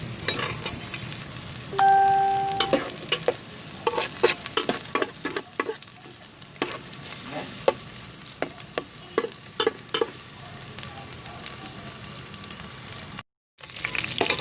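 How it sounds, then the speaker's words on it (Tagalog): Garlic and onion sizzle in a frying pan for Kapampangan dinuguan, a steady close hiss broken by repeated scraping stirs and a brief tone near the start, with no talking. "Ipa-brown natin siya, guys, para masarap yung ating dinuguan."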